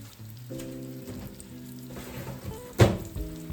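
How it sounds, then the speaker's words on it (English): Marbled meat searing in fat in a pan, a steady sizzle under low tonal kitchen hum, with a sharp clunk near the end. "I'm going to sear each side of that"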